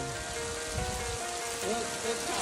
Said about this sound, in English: I am in a hailstorm.